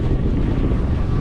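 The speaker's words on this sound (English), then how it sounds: "the crossing between these islands is getting up and down the waves, and then the splash comes through this netting and everyone gets wet" A catamaran crossing waves between islands off Mauritius gives a loud, close rush of splashing water and wind noise, steady for about a second.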